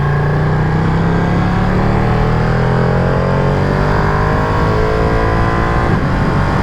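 A Ducati Panigale V2 sport motorcycle ridden in sport mode, its engine droning loud and steady with a slowly rising pitch as it accelerates, with wind noise and no talking.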